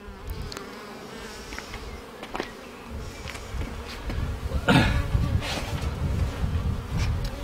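Bees buzz close by around a queen cell starter colony hive, a steady insect drone with individual bees zipping past the microphone, plus occasional handling knocks.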